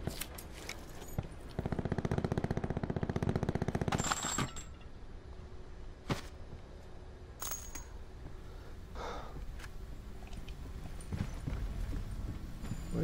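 Rapid bursts of video game gunfire crackle through a busy stretch, with sharp isolated shots and mechanical clatter spread across the clip at moderate loudness.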